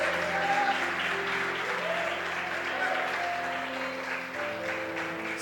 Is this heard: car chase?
no